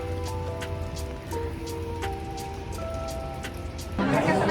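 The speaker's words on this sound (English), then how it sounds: "It's also raining, so everyone's trying to come in." Steady rain pattering outside a busy restaurant in Iceland, a constant wash of drops with faint tonal background sounds, swelling louder near the end.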